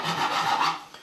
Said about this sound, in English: I have some smaller files like this, right, that I'll use